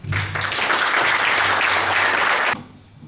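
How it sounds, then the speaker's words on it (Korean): Loud, dense applause from an audience welcoming a professor to a lecture on unification policy in New Zealand. Clapping fills the hall steadily, then stops abruptly near the end and leaves a quiet room. "교수님을 큰 박수로 맞아주시기 바랍니다."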